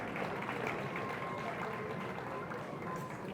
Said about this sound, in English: Round of applause for Umakhan, please.